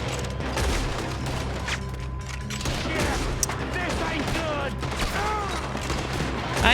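Gunfire in Red Dead Redemption 2: a steady battle bed of rapid shots and low rumbling, with scattered sharper reports, whistling swoops and a loud burst at the very end.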